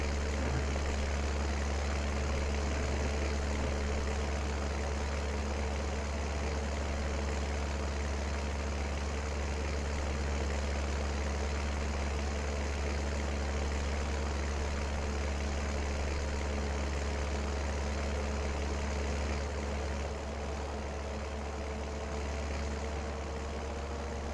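A Deutz Fahr DX4 tractor engine idles steadily in Farming Simulator 19, a constant low, heavy rumble with a droning hum that holds level throughout, with no voices.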